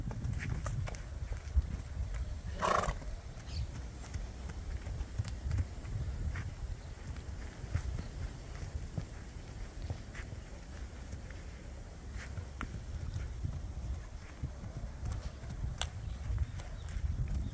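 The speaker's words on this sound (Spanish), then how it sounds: "Ah, qué caballo lindo." Horse hooves clip-clop in a rough, uneven walking rhythm against steady low wind or handling noise, close by and moderately loud, the horse a piebald criollo-type mount being shown outdoors.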